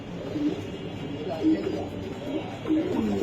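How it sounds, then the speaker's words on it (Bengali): Red Chulli pigeons coo at a pigeon farm in Mirpur, giving soft low calls repeated about three times, with faint voices in the background. "লাল চুল্লি কবুতর"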